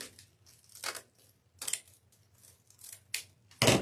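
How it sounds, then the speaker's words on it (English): Scissors cut through deco mesh for a wreath, giving several separate crisp snips and rustles, close and clear, spaced irregularly with a sharper, louder cut at the end. "We're just right at the basic here of cutting mesh"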